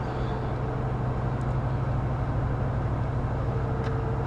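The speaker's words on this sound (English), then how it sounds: "And even inside, that exhaust sounds good." A steady low engine and exhaust rumble from a 2001 Dodge Durango R/T SUV heard inside the cabin, constant and droning, with no other distinct sounds.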